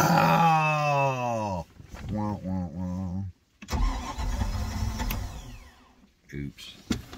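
A MerCruiser inboard/outboard stern-drive engine in a Stingray cuddy cabin boat, left sitting after a hurricane, cranks and catches, then runs and revs unevenly with brief dropouts, loud and close, with talk in places.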